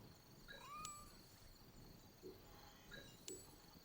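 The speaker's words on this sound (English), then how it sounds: "I hear a kitty" A cat meows twice in the Assassin's Creed Origins video game, short rising calls spaced a couple of seconds apart over a quiet ambient background.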